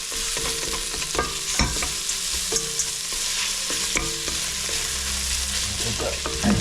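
Tomatoes frying in a pan for a zazharka on a camping stove during an Alpine motorcycle trip, with a steady sizzle broken by repeated scraping and clacking stirs of a utensil, close and fairly loud, no talking.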